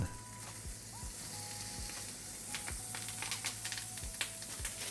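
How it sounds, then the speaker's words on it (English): A bright blue mochi burger patty, seasoned with salt, sizzles steadily in a hot pan with a little oil, a close, even frying hiss with scattered pops and a few faint clicks. "a tiny bit of oil into a hot pan, then I'm seasoning my bright blue burger with a pinch of salt and throwing it in"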